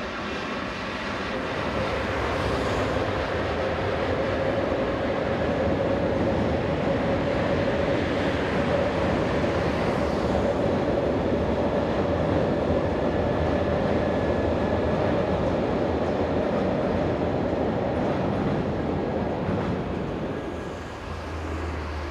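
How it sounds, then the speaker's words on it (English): Belgian electric locomotive 1866 hauls a northbound passenger train for Antwerpen Central past a canal, a loud continuous rolling roar of motor and wheels that holds steady for about twenty seconds before easing slightly. "1866 heads north with a train for Antwerpen Central"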